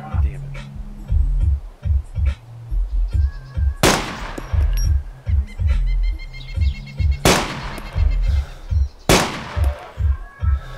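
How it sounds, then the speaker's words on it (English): Gunfire in the DayZ Epoch video game, with three sharp, loud reports at separate moments over a steady rhythmic engine-like thumping, and voices talking. "I can hear gunshots like all over the yeah, place."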